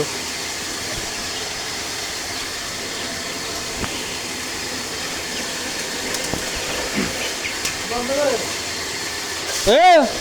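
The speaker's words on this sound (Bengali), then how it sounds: "মোটর বন্ধ করেন" An electric motor hums steadily at close range, a continuous low drone running the full length, with voices talking intermittently over it.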